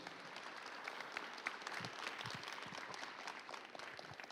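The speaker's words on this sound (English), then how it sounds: "So a big round of applause for Kennedy." An audience claps in a school setting at a high school college signing ceremony. The applause is steady and fairly faint, with scattered individual claps standing out over a few seconds.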